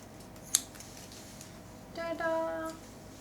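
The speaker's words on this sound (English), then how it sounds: "Do you want to see me cut steps in my hair?" Scissors snip once sharply while cutting steps into hair at home, followed by a faint tonal rasp of a brief second cut; the setting is quiet.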